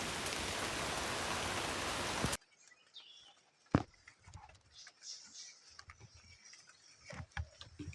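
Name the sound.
rain falling in the forest while hunting birds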